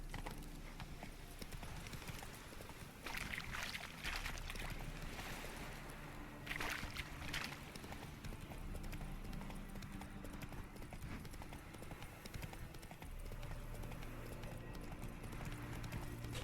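Horse hooves clip-clop in a steady trotting rhythm during riding in The Witcher 3, continuous and fairly close over a constant ambient backdrop.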